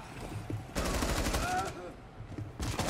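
Rapid bursts of gunfire in Rainbow Six Siege, loud broadband volleys starting about a second in and returning near the end, with faint voices under them.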